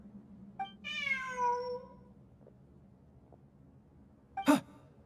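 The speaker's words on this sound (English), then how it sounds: "Look! A cat!" A video game cat lets out one drawn-out, falling meow, then after a pause a short, sharp meow, both close and clear over a faint background hum.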